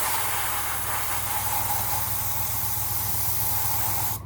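An airbrush sprays grey paint onto the hull panels of a Bandai Perfect Grade 1/72 Millennium Falcon model, giving a steady, close, continuous hiss that cuts off abruptly at the end.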